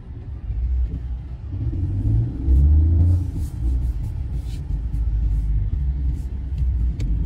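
A car on a road trip, with steady low engine rumble and road noise throughout and a brief swell of revving midway, heard from inside the vehicle.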